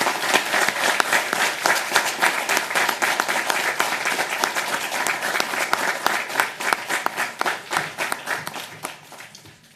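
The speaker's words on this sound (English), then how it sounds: "If we could give everyone a round of applause for their excellent work." Sustained applause from the audience at a school district governing board meeting, a dense steady clatter of many hands that holds for several seconds and then gradually tapers off toward the end.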